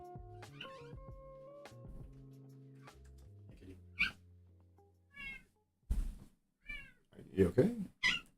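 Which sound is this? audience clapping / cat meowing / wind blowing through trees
cat meowing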